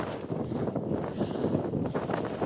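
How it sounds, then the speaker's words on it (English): Strong wind buffeting across an exposed sandstone mountain ridge near Convict Lakes, a continuous roaring rumble with gusty surges and no voices. "Windy."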